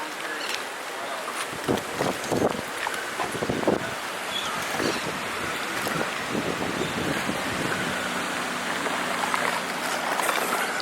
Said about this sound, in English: the wind's a minor thing right now